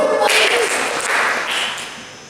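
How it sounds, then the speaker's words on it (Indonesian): At a church youth gathering, a group claps together once as part of a clapping game, a single loud, crisp burst that fades quickly into room reverberation. "Tepuk satu 2 kali."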